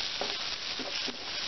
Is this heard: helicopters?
no